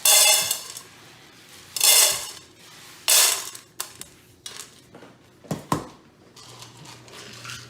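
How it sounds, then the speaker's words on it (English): Dried beans poured into a pot in several separate bursts, each a loud rattling cascade of hard pellets against metal, followed by lighter scattered clinks and taps. "So we're going to bring them into the pot."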